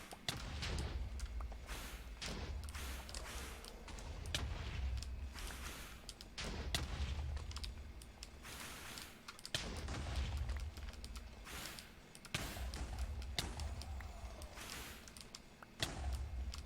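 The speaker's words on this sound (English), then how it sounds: "we get free explosions blowing up the holes here" Explosions in a video game blast holes in the ground as a run of deep, muffled booms that come every second or two, each with a sharp onset and a rumbling tail, over a continuous low game soundscape.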